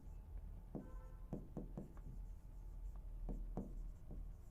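Pen scratching on paper while working through a Class 10 math problem, a series of short faint strokes with brief gaps, set against a low steady room hum.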